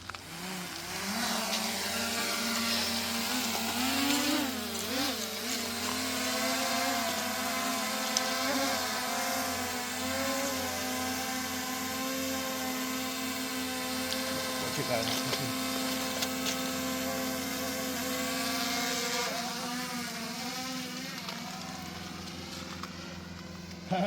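A drone at sea on a fishing trip starts up and runs with a steady, loud whirring buzz whose pitch wavers and rises as it revs; faint voices sit beneath it.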